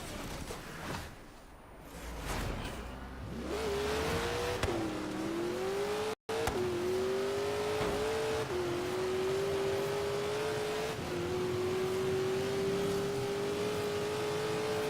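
Engine of an AMC Javelin in the Forza Horizon 3 racing game, revving up and holding a steady, loud drone as it drives, pitch climbing and settling through gear changes, with a brief dropout midway.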